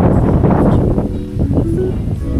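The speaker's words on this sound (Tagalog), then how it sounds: "Pero ang lakas ng hangin" Loud, continuous wind buffeting the microphone, a heavy roaring rumble throughout, with faint background sounds underneath.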